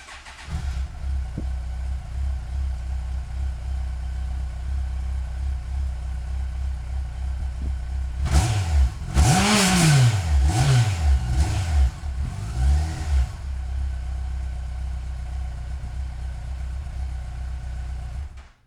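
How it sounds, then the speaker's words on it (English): A Gen I Y car's stock exhaust idles with a steady low rumble, then revs up in several quick bursts before settling back to a constant idle, recorded three feet from the exhaust. "The first thing we're going to do is make a recording of the original exhaust."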